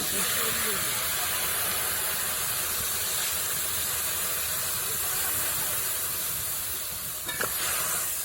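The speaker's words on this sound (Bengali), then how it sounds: "এবারে আমি জল দেবো" Water poured into a hot cooking pot sets off a broad, steady hiss and sizzle that continues evenly for several seconds with no gaps, close and fairly loud, with a brief clink near the end.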